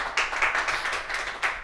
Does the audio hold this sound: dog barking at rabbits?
no